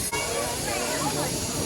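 A steam engine at Murdoch Day in Redruth, Cornwall gives off a loud, steady, close hiss of escaping steam that fills the whole moment, with outdoor rumble beneath.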